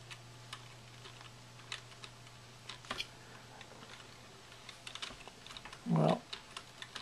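Quiet clicks of typing on a computer keyboard, scattered keystrokes in short bursts with pauses, close and soft over a low hum.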